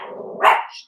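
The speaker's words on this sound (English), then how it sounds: "my dog is barking" A dog barks in one short, loud burst rising out of a steady background hum, then fades quickly.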